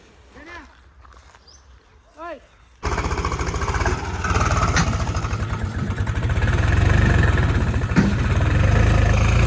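After a quiet opening with brief voices, a tractor engine used for hauling manure starts up close and runs steadily with a loud, chugging rumble.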